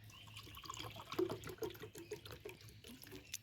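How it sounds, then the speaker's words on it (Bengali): Chilled water from the fridge poured into a glass for homemade Sprite, a soft, steady trickle and splash of liquid running close by for a few seconds, with no talking. "এবারে এই জলটা ঢেলে দিলাম"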